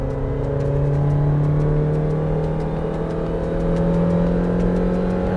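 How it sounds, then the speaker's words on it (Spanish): A Suzuki Jimny 5-door four-wheel-drive with automatic transmission accelerates at full throttle from inside the cabin, its engine note droning steadily and rising gradually in pitch as revs climb. "Lo pongo en Drive, voy a fondo, 2000. Va subiendo las revoluciones progresivas."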